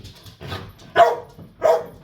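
A dog barks close by indoors, three short loud barks spaced about half a second apart, the first softer and the last two sharper, heard alone without talking.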